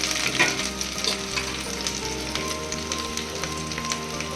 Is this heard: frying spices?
yes